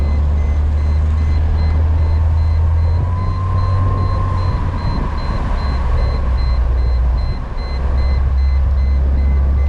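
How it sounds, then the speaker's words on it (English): A 1998 Mercedes-Benz SLK 230 sounds a random warning beep, a steady train of short high electronic tones pulsing over the low hum and rumble of the car's engine while driving. "Oh, there goes the beeping."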